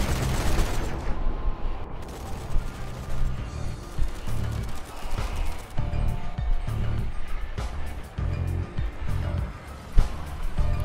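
Gun turret firing in Zombie Army 4, a dense run of rapid booming shots with heavy impacts and crashes, loud and continuous across the whole stretch.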